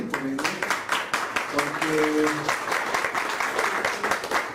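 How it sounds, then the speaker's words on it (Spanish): A church congregation breaks into applause, a dense run of clapping from many hands, with singing voices and a held musical tone sounding under it. "¿por qué no podemos aplaudir por ello?"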